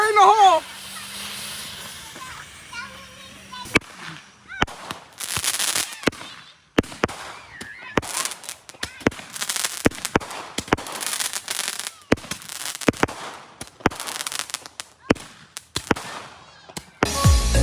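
Fireworks going off on New Year's Day, a long string of sharp, loud bangs and crackling pops in an irregular rapid volley, with hissing and voices shouting amid the blasts.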